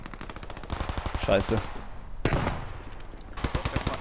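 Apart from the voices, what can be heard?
gunfire in the video game Post Scriptum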